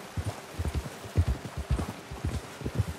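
Horse hooves clip-clop at a steady walking pace in the video game Red Dead Redemption 2, close and dull, with uneven footfalls over quiet background noise.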